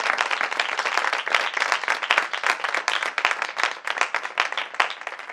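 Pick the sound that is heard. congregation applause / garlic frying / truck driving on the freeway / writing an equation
congregation applause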